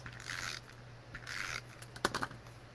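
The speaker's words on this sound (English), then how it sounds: "I'm going to put tape just on one side of it" Tape is pulled off the roll and pressed onto card paper during card making, heard as close, quiet bursts of ripping and crackling, with a few sharper clicks near the end and no talking.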